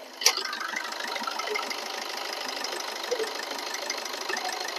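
A vehicle engine runs steadily at idle with an even, slightly knocking hum, opening with a brief sharp click.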